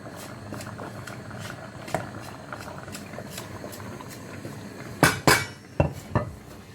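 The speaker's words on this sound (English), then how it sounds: "I'm just going to stir a little bit." A spoon scrapes and knocks around a pot of Nigerian tomato chicken stew, soft scraping through the first seconds, then four sharp metallic clanks close together near the end, with no talking.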